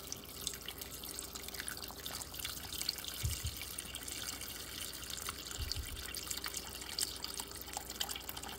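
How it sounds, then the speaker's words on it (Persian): Water pours steadily into a cooking pot over chicken pieces, a continuous soft splashing rush with a couple of low sloshing thuds, heard alone and fairly quiet. "در این موقع آب را برای پختن مرغ‌ها اضافه می‌کنیم"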